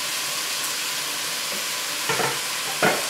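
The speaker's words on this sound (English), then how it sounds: "Take these awesome sausages, throw them in the pan." Sausage pieces sizzle steadily in a hot frying pan, a loud, close, even hiss with a couple of brief scraping bursts near the end as they are moved around.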